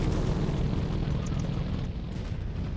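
Tank cannon in the Sprocket game booming heavily, a dense low rumbling blast that fills the short stretch with roaring noise and no voices.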